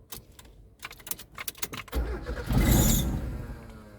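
A 1996 Mazda 626 engine cranks with a whirring starter after some small clicks and rattles, churning for a couple of seconds without catching, as no fuel reaches the engine.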